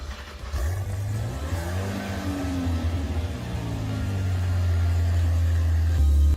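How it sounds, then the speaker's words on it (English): Zenvo TSRS engine in the Driving Empire video game cranks and fires up, its pitch sweeping upward before settling into a loud, deep, steady idle drone with no talking. "the Zenvo TSRS is the best sounding, so let's go ahead and start it up"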